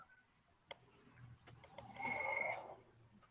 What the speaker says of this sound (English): I think it's a tree frog or something out here.